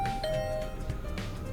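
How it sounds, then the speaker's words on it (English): A doorbell chimes in The Hundred Line: Last Defense Academy video game, a single ring with a sustained tone that fades over a second and a half against soft game ambience. "I'll ring the bell anyway"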